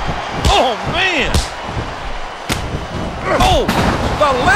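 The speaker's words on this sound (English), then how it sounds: "The lariat knocks their opponent down!" Heavy body slams from a televised pro wrestling match, including a lariat knocking an opponent to the mat, land as several loud thuds over an excited announcer's commentary and crowd noise.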